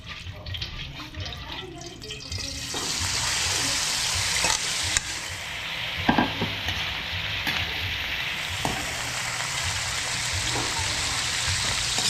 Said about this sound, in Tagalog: Bawang sibuyas at yung usbong na sampalok. Yan, iwain na natin ito.